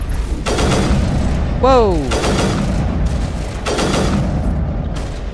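Burst sniper rifle fire in Mass Effect Legendary Edition, loud broadband blasts recurring in bursts across the clip, with a brief voice exclaiming in the middle.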